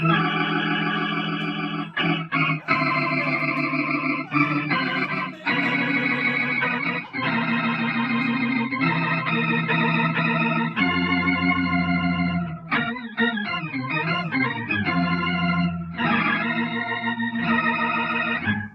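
Sustained organ-like chords from a synth pedal in organ mode, like a Hammond B3, played on a 7-string guitar, thick and held, changing every second or two with a brief wobbling passage.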